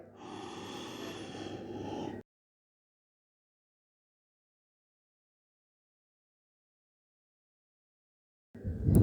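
A steady nasal inhalation through the right nostril during alternate nostril breathing in a yoga routine, a close, breathy rush lasting about two seconds before silence, then a brief start of the next breath.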